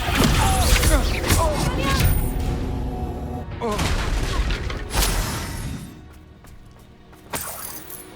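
A fiery spell burst and crackling blasts from Hogwarts Legacy gameplay, loud booming and shattering effects in sequence while a voice speaks over parts of the action.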